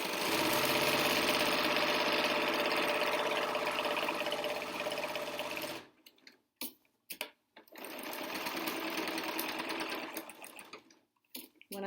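A sewing machine runs steadily while stitching a replacement N95-style mask, a loud continuous motor whir for several seconds, then a short gap with a few brief bursts before another sustained run of stitching.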